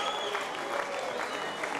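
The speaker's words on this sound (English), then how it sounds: "Listen to the crowd roar." A crowd at an Australian football match in South Adelaide roars and applauds after a goal, a dense, steady wash of cheering and clapping heard from a distance.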